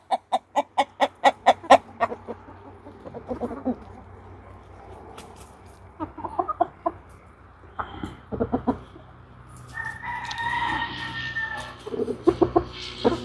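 Chickens and roosters clucking in a run of sharp, rapid calls up close, then a burst of flustered squawking and scattered clucks as birds scramble about.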